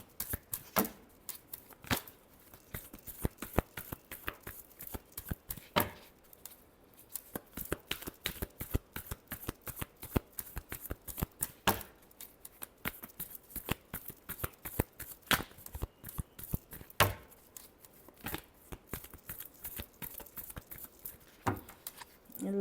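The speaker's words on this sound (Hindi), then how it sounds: "Last shuffle." Deck of tarot cards being shuffled by hand, a long run of close, crisp riffling flutters and taps in quick irregular bursts, no voice.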